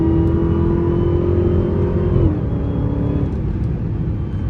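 A Dodge Hellcat engine with a stock intake revs loud and close, a deep steady roar that shifts pitch and eases off partway through, with no voices.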